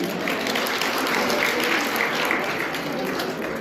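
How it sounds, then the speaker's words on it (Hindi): Farewell-party audience applauding teacher Atul ji at a school event, a steady dense wash of clapping held at even loudness for the whole stretch without pause. "अतुल जी के लिए एक बार जोरदार तालियां"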